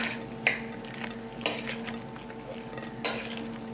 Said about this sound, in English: I'm going to mix it all up.